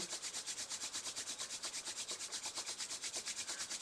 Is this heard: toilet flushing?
no